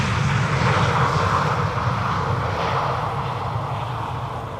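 A German Airways airliner in a pixelated livery passes over at Schiphol, its jet engines a loud, steady roar that slowly fades as it moves away.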